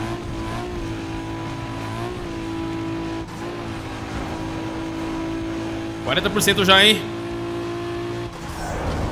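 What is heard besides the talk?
Nissan Skyline engine roar in the video game Need for Speed Underground 2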